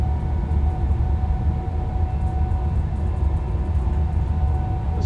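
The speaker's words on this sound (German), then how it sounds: "Das ist ein ICE." An ICE high-speed train in Train Sim World 3 passes on a line with heavy computer-run traffic, giving a steady, loud low rumble of rolling wheels and running gear that holds for several seconds with no pause and no voice.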